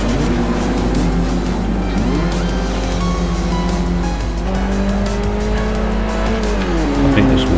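Eagle Talon race car in Forza Motorsport 4 driving hard into a corner, its engine droning loud and steady with rising and falling pitch, tires squealing as the rear end starts to slide.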